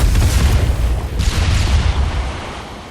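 A grenade explodes in the video game Killing Floor 2, a deep booming blast with rumbling low end that rolls on and slowly fades over a few seconds, with no talk over it.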